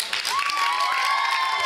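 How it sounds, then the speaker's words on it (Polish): Crowd applause for the performer Rufi (Rafał Kamiński) at a judges' showcase event, a dense steady patter with a high whistle-like tone running through it. "Rufi, dla niego brawa."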